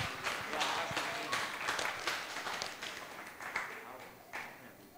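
A church congregation at a Sunday service claps for a group of young people, a dense, even round of applause heard from a moderate distance that holds steady for several seconds before gradually thinning out.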